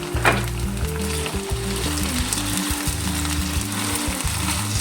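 Red and green peppers with potatoes sizzle and crackle steadily in a hot pan for a Tuscan vegetable dish, with a few stirring clinks, loud and close with no talking.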